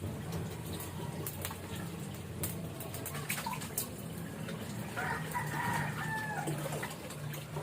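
A rooster crowing and clucking outdoors, somewhat distant and faint against a steady low background hum, with a longer crow standing out near the end.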